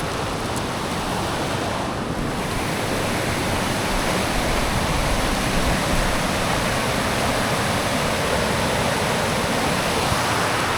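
A waterfall near Marquette on Lake Superior roars as a steady, loud, unbroken rush of broadband water noise, holding constant and alone for the whole stretch.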